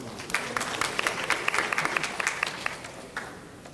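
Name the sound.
audience applause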